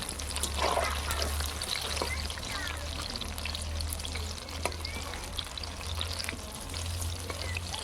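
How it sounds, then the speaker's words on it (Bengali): Banana-flower fritters fry in hot oil in a pan, a steady, close bubbling sizzle with scattered crackles running throughout, no talk over it. "বড়াগুলো ভাজা হয়ে গেছে এবার আমি নামিয়ে নেবো"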